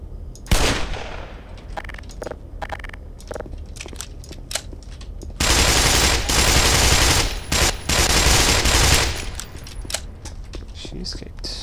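Magnum revolver gunfire in the shooter Black Mesa: loud, closely spaced shots and bursts amid combat noise, with a long dense stretch of firing in the middle and talking over parts of it.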